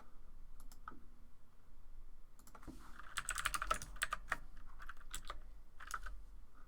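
Keys on a computer keyboard clatter quietly in irregular bursts, with a denser run of rapid presses in the middle, close by and without talk.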